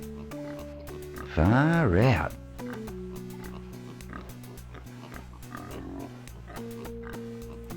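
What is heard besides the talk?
pigs oinking while eating scraps in DOS adventure game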